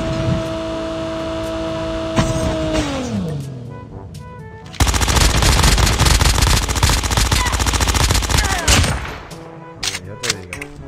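In COD Mobile Battle Royale, an MX9 fires loud rapid bursts of fully automatic gunfire. A falling electronic tone comes first, then a dense rattling stream of shots for several seconds, ending in a few scattered shots.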